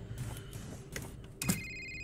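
A telephone rings in a video game map, a thin electronic ring starting near the end after some muffled shuffling and a soft door-like bump, fairly faint.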